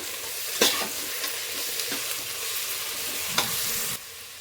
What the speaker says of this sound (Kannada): ಸ್ವಲ್ಪ ಹಸಿ ವಾಸನೆ ಹೋಗಲಿ ಅಲ್ಲಿವರೆಗೂ ಸ್ವಲ್ಪ ಫ್ರೈ ಮಾಡ್ಕೊಳ್ಳೋಣ